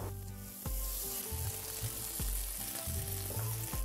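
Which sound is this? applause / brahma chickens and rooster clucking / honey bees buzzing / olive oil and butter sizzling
olive oil and butter sizzling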